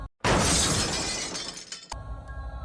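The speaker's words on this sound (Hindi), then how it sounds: "ठीक वो आईना जिसके सामने बैठकर नलिनी वायलिन बजाया करती थी, एक जोरदार आवाज के साथ टूट गया।" A mirror smashes with one loud, sudden crash, followed by a spray of shattering glass fragments that rings out and slowly decays, then a second smaller clatter of shards near the end.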